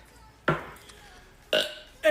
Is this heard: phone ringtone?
no